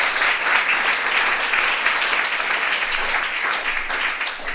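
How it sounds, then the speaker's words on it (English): Sustained applause from a crowd at a startup networking talk, dense steady clapping that fills the room at full loudness throughout, with no voices breaking through. "Big applause for Laura again."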